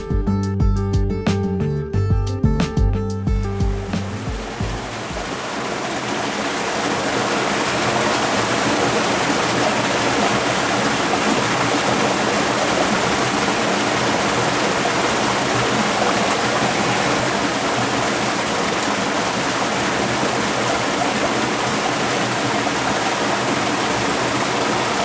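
The Urillo stream rushes through a wooded ravine near the Sare caves, a steady, loud broadband wash of flowing water. A few seconds of music play before the water comes in, and then the water continues alone.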